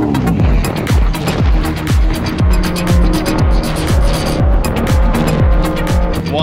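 A race car laps a track, its engine repeatedly revving up and down through gear changes while tires squeal and skid, loud and close throughout.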